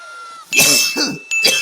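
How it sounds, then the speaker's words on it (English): A few sharp, harsh coughs break out close by in quick bursts, separated by brief pauses, fairly loud against a quiet background. "I do apologise for any coughing."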